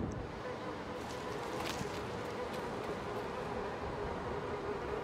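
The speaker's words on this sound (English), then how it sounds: "Oh, those weren't bees. Those were flies." Flies buzz in the video game Little Nightmares 2, a continuous faint droning hum that lingers evenly for several seconds without talk.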